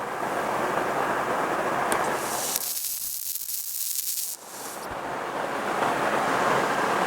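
Welding on the top of a lateral support of a steel shop crane makes a steady, dense crackling hiss that breaks off for about two seconds midway, then resumes just as loudly.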